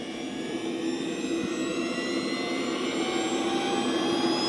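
A LintonJet X80DX model jet turbine in an Aerofoam MB-339 whines steadily, its high-pitched roar slowly rising as it spools up, close and continuous with no voices.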